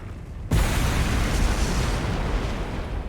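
A video game explosion in LoH TTD blows apart a body, bursting in suddenly after a brief quiet lead-in, then a loud, sustained crackling roar with heavy low rumble that fades only slightly.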